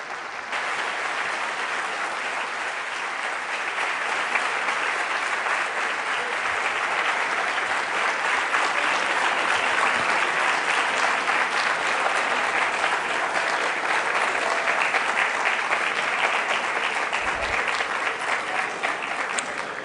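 Standing ovation at an international drugs and human rights symposium after a minister's conference talk, steady dense applause from a large audience sustained evenly for about twenty seconds.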